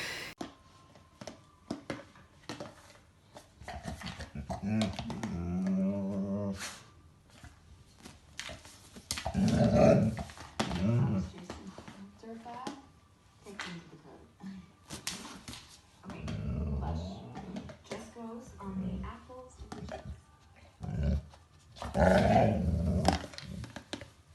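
A dog growling and grumbling at length, with rising and falling vocal bursts and short yips, played back from a friend's phone recording, fairly close with some background noise.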